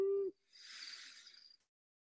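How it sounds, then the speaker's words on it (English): A recorded owl, played back over a speaker, gives a short low hoot followed by a longer breathy, hissing call, then silence. "in spring and summer, what to listen for is kind of their long and low hoots"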